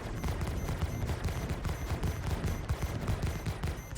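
Ship turret guns in the video game Star Citizen fire in a rapid, continuous stream of loud, evenly spaced shots throughout.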